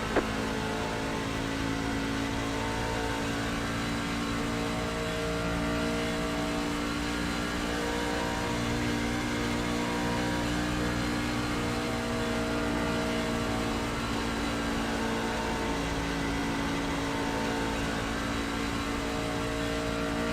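Race car engines in the iRacing simulator drone steadily at high revs, a continuous near roar with layered tones from several cars running together throughout.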